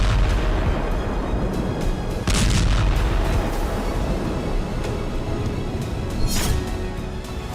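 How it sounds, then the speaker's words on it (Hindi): Russian Iskander missiles explode over a Ukrainian position, with two heavy booms over a constant loud rumbling roar and no voices. "ये रूस की इस्कंदर मिसाइलों से होने वाले धमाके हैं।"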